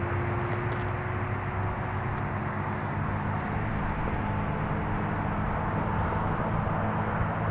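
Beginner RC airplane flying overhead: a steady, fairly loud high electric motor whine with a faint pitch drift, over broadband wind noise, with no talking.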